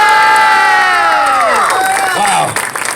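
A crowd gathered on an ocean pier in Florida cheers and shouts loudly for street performers doing hip hop dancing, with excited children's voices rising in a brief burst that fades out near the end.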